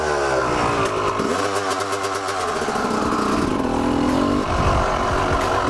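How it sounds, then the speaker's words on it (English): A Honda CR250 two-stroke motorcycle engine revs loud and close, rising and falling in pitch with a raspy, buzzing tone throughout, no voices over it. "this bike is just sounding mean"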